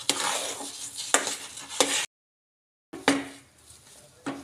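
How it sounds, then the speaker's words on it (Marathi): A thickening puran lentil filling is stirred in a pan, with close, scraping strokes and light sizzling that break off for nearly a second before resuming. "असं छान हलवून घ्यायचं"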